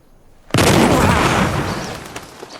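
A single loud gunshot booms like a cannon outdoors, a sudden sharp blast that is close and powerful, then a long rumbling decay with faint knocks as it fades.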